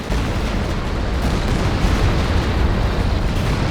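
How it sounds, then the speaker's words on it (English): Stuka dive-bomber barrage in the Company of Heroes 2 video game, a dense continuous roar of explosions and booms rolling across the battlefield, loud and sustained, with no talking. "good walking Stuka barrage there"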